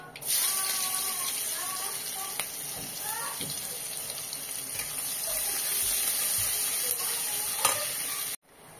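Mustard seeds sizzle and crackle in hot oil in a pan, a steady bright hiss with scattered pops and faint stirring clatter throughout.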